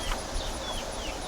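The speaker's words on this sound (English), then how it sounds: "these fine looking chickens here" Chickens in a backyard coop, three roosters and several laying hens, make faint fowl calls that sit beneath a steady wash of broad background noise, with no one speaking.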